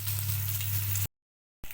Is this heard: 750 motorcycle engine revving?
no